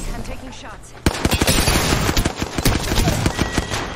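Rapid bursts of automatic gunfire in an Apex Legends firefight crack out loudly after a brief quiet start, with shots following close together and a player talking over them.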